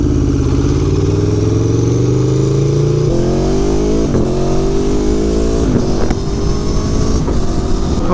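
An Aprilia Tuono V4 motorcycle pulls away, its loud, close engine note rising through repeated revving climbs and gear changes over a steady rumble.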